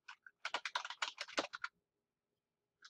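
A password is typed on a computer keyboard in a quick burst of soft, close key clicks, a couple of taps before and one lone tap after, in an otherwise quiet room.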